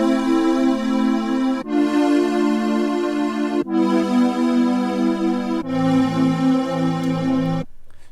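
A lush chord synth pad in a future R&B style, played on a Melbourne Instruments Nina synthesizer, sounds as four sustained chords of about two seconds each, loud and close, with a short clean release and no talking.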